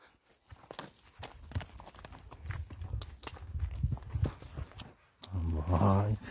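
Horses walk on a dry northern Minas Gerais farm, their hooves clip-clopping in an uneven nearby rhythm, followed by a person speaking at the end.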